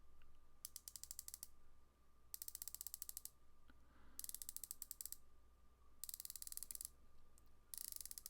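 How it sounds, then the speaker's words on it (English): Pagani Design dive watch bezel being turned in bursts, each burst a fast run of crisp, faint ratcheting clicks, with short quiet pauses between turns. "the teeth or the clicks on this bezel aren't as tight and distinct as on the Addies Dive"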